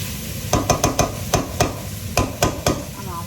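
Onions and meat fry in a home pan while a spoon stirs them, giving about ten sharp scraping knocks against the pan over a steady low sizzle, close and moderately loud.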